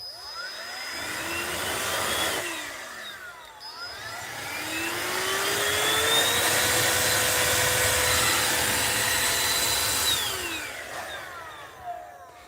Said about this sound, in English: And inside, it's a blower.